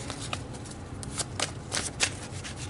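Tarot cards being shuffled by hand, a steady papery riffle with several brighter flicks standing out, close and moderately quiet with no talking.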